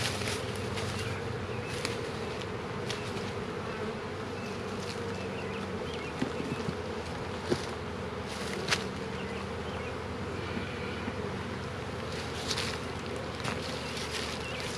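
Honeybees drone steadily around an opened hive while nucleus colonies are moved into a two-story setup. The buzzing is continuous and close, with occasional light knocks and clicks of hive equipment.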